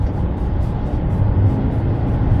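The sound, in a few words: hybrid car engine accelerating loudly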